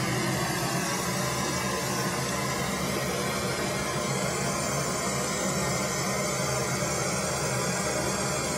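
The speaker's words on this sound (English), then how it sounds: "the pink noise" Steady, even pink noise test signal hisses continuously at a constant level from start to finish, with no pauses or changes.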